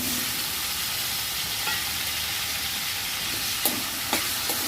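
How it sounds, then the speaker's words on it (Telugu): Unripe tomato pieces frying in hot oil for kottimeera pachadi, a steady loud sizzle filling the whole stretch, with a few sharper pops and spatters toward the end. "ఇప్పుడు ఈ నూనె వేడిగానే ఉంటుంది కాబట్టి మనం ఈ టమాటా ముక్కలను అయితే వేసుకోవాలి."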